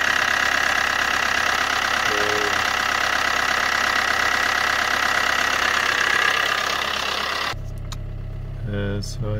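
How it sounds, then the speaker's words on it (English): A diesel car engine runs steadily at idle after a battery repair, a loud continuous rumble that cuts off abruptly near the end, leaving a quieter low hum with brief faint sounds. "And it works straight away, perfectly. And this is a diesel engine."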